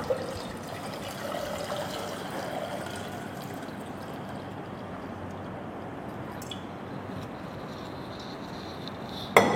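In a school science experiment, water is poured into a beaker beside a round-bottomed flask: a soft, faint, continuous trickle that ends in a brief clink.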